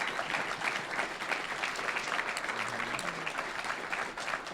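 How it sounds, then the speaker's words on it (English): A large audience bursts into sustained, dense applause at the finale of a charity gaming stream, a loud, even roar of clapping that holds steady throughout. "We get a huge round of applause from everybody from this."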